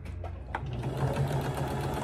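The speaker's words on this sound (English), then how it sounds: "I'm going to take it to the sewing machine, and I'm going to sew 1/4-inch seam allowance" A sewing machine stitches a quarter-inch seam on quilt fabric scraps, giving a steady, close, mechanical whir with a rapid rhythmic hum for about two seconds.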